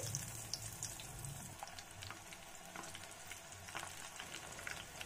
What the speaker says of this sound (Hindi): कढ़ाई में मैंने ऑयल भी गरम कर लिया इधर इसके अंदर ये बैगन डालेंगे